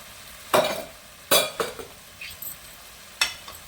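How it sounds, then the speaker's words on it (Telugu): Curry being stirred in a pan after chili powder and coriander powder go in, with several distinct scraping strokes and sizzling bursts over a quiet background, close by. "దీన్ని మొత్తాన్ని కలిపి కారం ధనియాల పొడి కలిపి తీసుకున్నామండి"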